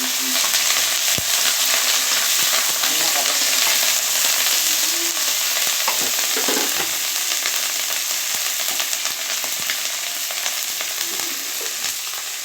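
Curry leaves frying in hot oil for a Tamil curry, a steady close crackling sizzle with scattered pops throughout.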